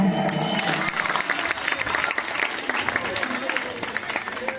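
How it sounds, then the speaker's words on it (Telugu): Enthusiastic applause from a crowd at a student prize announcement, continuous clapping throughout with voices mixed in beneath it. "అనుష్క శ్రీ క్లాప్స్ లేవా?"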